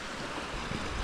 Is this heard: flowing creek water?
yes